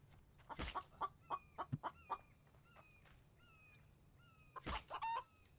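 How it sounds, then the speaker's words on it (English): A chicken clucks in a survival video game, The Infected: a close series of short clucks and rising squawks comes in uneven bursts, and two sharp thuds mark the start and the end. "Come back, chicken."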